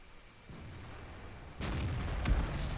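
Gunfire from a tank in a tank video game, with a low background rumble that jumps louder partway through and a sharp blast near the end.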